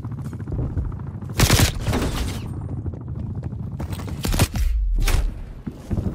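Gunfire from a sniper-style video game, loud broadband shots and bursts over a steady game soundscape, with a couple of sharp reports standing out near the middle and end.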